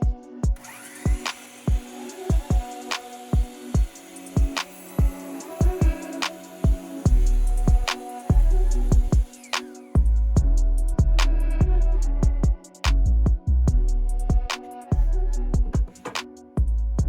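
Miter saw cutting a zero clearance insert, a series of sharp, loud, close impacts and clattering hits in irregular rhythm, with a deep motor hum and whine taking over in the second half, no speech.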